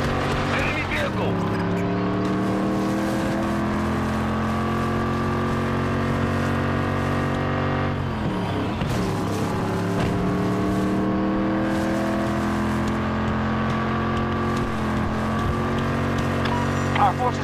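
An enemy ground vehicle in Battlefield 2042 drives close by with a steady, loud engine drone whose pitch rises and falls as it shifts and accelerates, with other game sounds mixed in.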